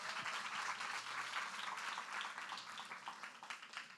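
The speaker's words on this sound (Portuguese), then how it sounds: "vocês podem dar uma salva de palmas para eles" A conference audience at a Christian women's event applauds, a full wash of many hands clapping with faint cheers mixed in, holding steady and then tapering slightly toward the end.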